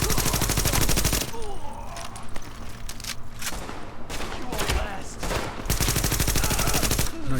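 Rapid automatic gunfire from The Division video game, sustained bursts of shots crackling loudly throughout with brief lulls, a voice speaking briefly beneath the shooting.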